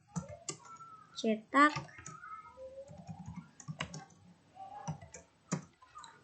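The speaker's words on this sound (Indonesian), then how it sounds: "Kita ketik lagi" Computer keyboard typing while JavaScript code for Node.js is entered, heard as scattered soft clicks beneath someone speaking almost continuously.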